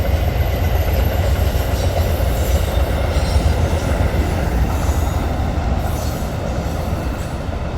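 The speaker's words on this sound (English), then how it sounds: "there's a train bridge right there, and there's a train coming right now" An Amtrak train rolls steadily over a railway bridge near a hiking spot in Duxbury, Vermont, a continuous loud rumble of wheels and cars with faint squealing, heard close and alone for the whole stretch.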